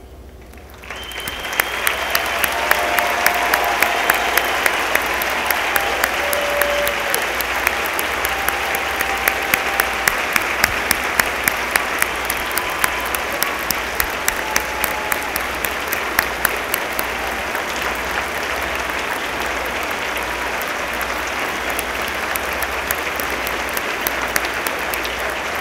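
Sustained, loud applause from a large audience at a 2013 college commencement ceremony honouring veterans, a steady dense clapping that holds for over twenty seconds with no talk.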